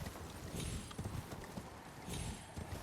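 Horse hooves clip-clopping in rapid galloping rhythm in the game Elden Ring, faint and under a dense wash of game ambience and noise.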